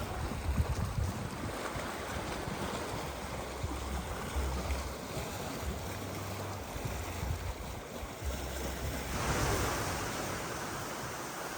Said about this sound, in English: this is a small but picturesque little beach close to the main town